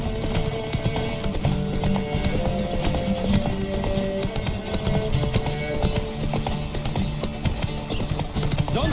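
Hoofbeats of a galloping horse in The Witcher 3 drum steadily and close, with a brief whinny, under continuous game music and ambience.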